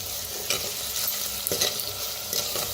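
Ground garlic and green chili paste frying in a pan, a soft steady sizzle with a few scraping stirs of a spoon, close and fairly quiet, no talking.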